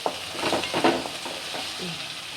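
Onions and garlic frying in a pan for a fish curry give a steady sizzle, broken by a few stirring scrapes early on, and then settle into a softer, even crackle.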